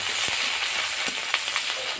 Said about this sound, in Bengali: মশলাগুলো দিয়ে ভালোভাবে ভেজে নেব।